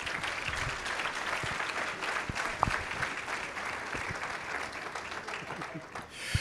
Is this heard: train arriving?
no